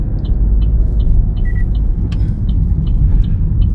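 A car pulls away on a road driving test course at the Chungju licence test centre, a steady low engine rumble from inside the cabin with faint, regular ticking over it.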